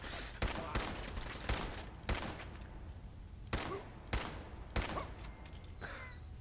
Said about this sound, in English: Submachine guns.